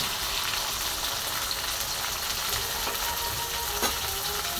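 Chilli and garlic sizzle steadily in hot oil while being sautéed for methi bhaji, a dense, continuous close-up frying hiss with faint stirring scrapes and no talking.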